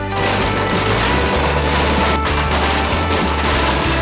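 Fireworks set off by villagers in Thulasendrapuram, Tamil Nadu, a loud continuous barrage of rapid cracking bursts and bangs with no pauses.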